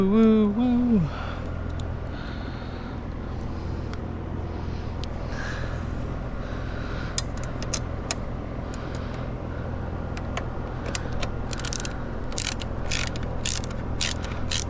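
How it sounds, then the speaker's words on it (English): Ratcheting wrench fastening hardware during a Tusk tail tidy install on a Honda CRF450RL, faint rapid clicking bursts that grow busier toward the end over steady background noise, after a brief vocal tune at the start. "Ratcheting wrench from Walmart"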